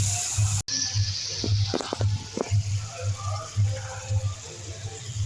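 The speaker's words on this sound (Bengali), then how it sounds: "এবার আমি একটু জল দিয়ে মশলাটা কষিয়ে নেব।" Water poured into spiced masala cooking in a pan, a soft steady splash and hiss with a few brief clinks and sizzles, while a voice speaks intermittently underneath.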